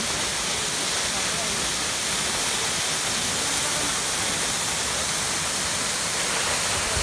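A waterfall cascade near an Armenian village pours down in a loud, constant broadband roar that stays close and unbroken throughout.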